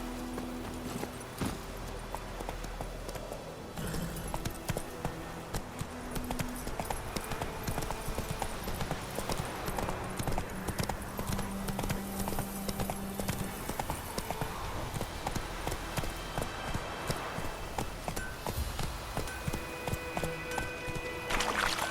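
A horse gallops steadily in The Witcher 3, its hooves beating a fast, regular clip-clop over ambient game music, with a brief voice near the start.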